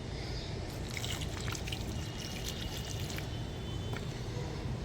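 Water is poured onto soil in a faint, continuous trickling splash that lasts a few seconds without any talking.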